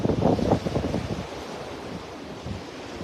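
Gusty wind buffets the microphone on a beach in North Naples, Florida, with surf rolling in; strongest roar in the first second, then a steadier, softer rush of wind and waves with no talking.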